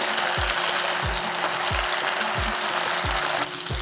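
Mixed vegetables cooking in a pan, a continuous hiss of frying with a regular series of soft low thumps roughly every two-thirds of a second, steady and close, no voices.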